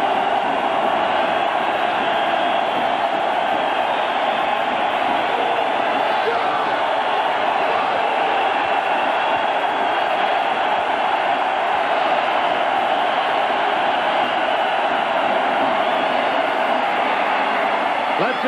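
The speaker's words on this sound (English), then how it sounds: "Now the crowd is up, making as much noise as they can" A college football stadium crowd at Colorado roars continuously during a third down against Miami, a broad steady wash of noise under a play-by-play voice.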